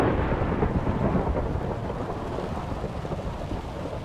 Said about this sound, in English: I love the thunderstorm.